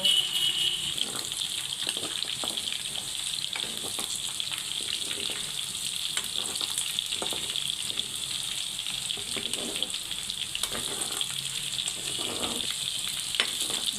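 Bone-in chicken pieces deep-fry steadily for Telugu chicken pickle, a continuous dense hiss and crackle of oil held at an even level, close and unbroken.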